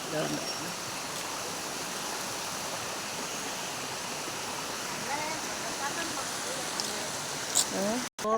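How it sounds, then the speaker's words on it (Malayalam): Water from a forest river at Vanaparvam, Kakkavayal rushes continuously over rocks in a steady, broad hiss, with faint voices briefly audible near the end. "ഇതാണ് വനപർവ്വം പുഴ"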